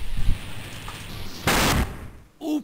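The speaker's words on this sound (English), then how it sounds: "I hope the explosion didn't hard boil it." Explosion in the video game Spyro: Year of the Dragon, in the Enchanted Towers level: a single short, loud burst that stands out against quieter game sounds, with a brief tonal effect just after.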